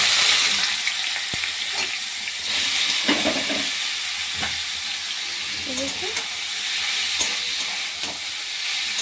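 Hupa frying in oil with mustard, dried red chillies and green chillies produces a loud, continuous close hiss with occasional stirring clicks and faint background sounds throughout.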